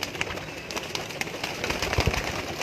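Many pigeons coo and murmur together in a crowded breeding loft in Lahore Cantt, a dense, close, continuous chorus of overlapping calls.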